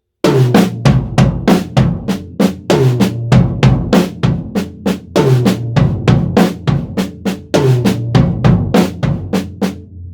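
Drum kit playing a full paradiddle fill around the snare and toms, with a fast, steady stream of close, punchy strokes in repeating groups for about ten seconds and no talk.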